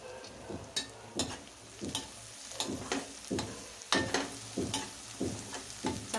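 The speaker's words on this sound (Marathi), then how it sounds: "चांगलं मिक्स करून घ्यायचं आहे।" A spoon stirs turmeric into onions frying in a pan for kande pohe, with a quiet, continuous sizzle broken by regular scraping strokes roughly twice a second, close up, no voices.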